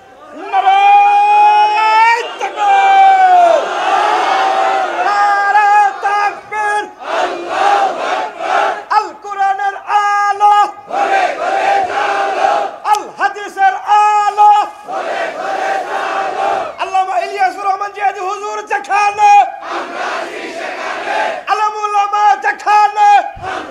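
A large crowd at a Bangla sermon shouts the takbir in unison, loud, sustained roars repeated in waves for the whole span, with the preacher's voice mixed in.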